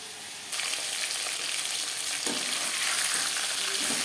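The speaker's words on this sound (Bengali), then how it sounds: "মাছ এক ভাজা হয়ে গেছে অপর ফুল তুলতে দেবো" Pangas fish pieces frying in a pan, a sizzle that jumps suddenly louder after a quiet start and then holds steady and close, with a brief stir partway through.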